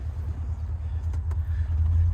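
A 1981 Chevrolet Corvette engine idles steadily nearby, a low, even rumble with a faint ticking texture and no voices over it.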